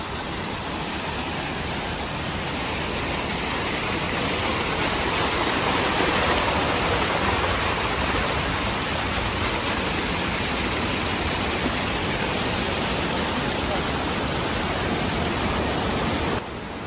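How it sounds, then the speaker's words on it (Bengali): Heavy rain pours with an overflowing waterfall on a trip in Sri Lanka, forming a loud, dense, continuous roar of rushing water that fills the whole stretch without a break. "প্রচুর পরিমাণে বৃষ্টি হচ্ছে"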